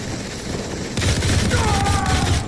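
Gunfire from the Modern Combat 4: Zero Hour shooter game: dense bursts of rapid shots and booms erupt after a quieter first second and keep rolling loudly through the rest, with a tonal whine overhead.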